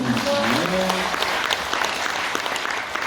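Sustained applause from an audience at a farmers' cooperative members' training session, dense and steady throughout, with a few faint voices under the clapping.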